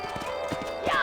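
A horse in the Red Dead Redemption video game clip-clops with several quick hoof beats, then lets out a rising whinny at the end, with voices talking over it.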